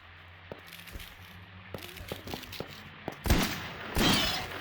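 Gunshots ring out at a nurse enemy in Silent Hill: Homecoming: a run of sharp, fairly quiet shots, then two louder, heavier blasts near the end.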